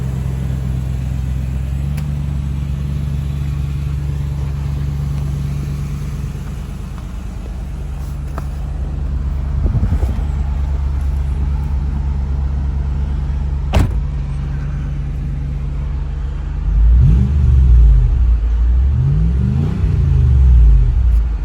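A 2004 Lexus GX470 with an R4T catback exhaust idles with a deep, steady rumble, then gives several short revs that swell and fall back toward the end, heard close up.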